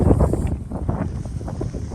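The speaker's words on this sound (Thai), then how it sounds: "ตรงนี้ก็คือแบบลมแรงมากนะคะแล้วก็เย็นมาก" Strong, cold wind buffeting the microphone beside a snowy lake, a loud, continuous rumbling roar with gusty surges throughout.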